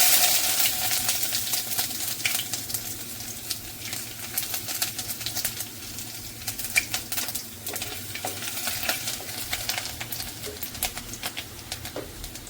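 Ginger hits hot oil already crackling with mustard seeds for a Kottayam-style fish curry with kudampuli, giving a steady close sizzle and hiss with scattered pops and stirring clicks, and no talking.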